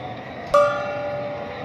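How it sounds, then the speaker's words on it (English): A stadium home run gong at a Dodgers–Pirates baseball game rings once, sharp and bright, then rings on in a long fading tone over low crowd noise. "And that'll be the home run gong for Ohtani."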